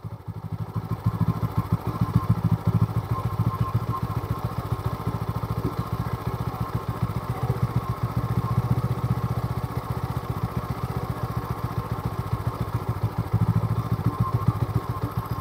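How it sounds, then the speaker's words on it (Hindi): A carbureted TVS Apache 160/200 4V motorcycle engine, prone to cold-start stalling, idles steadily up close with a rapid, even putter, holding a constant pace the whole time without revving. "इंजन का साउंड को आपको बहुत अच्छी तरह से ध्यान देना है"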